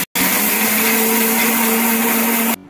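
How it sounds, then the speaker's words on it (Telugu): A kitchen mixer grinder whirs loudly at close range as it grinds cooled homemade cereal mix for baby food, starting abruptly after a short gap and running at a steady high-pitched drone before cutting off. "ఇంక ఇప్పుడు ఇవైతే మిక్సీకి పట్టేసుకున్నాము"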